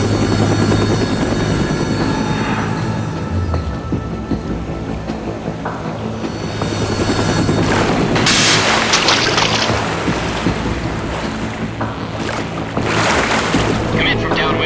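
A military helicopter approaches in Metal Gear Solid 2 with a loud, steady rotor roar and wind-like rush. Radio-style voices talk over it.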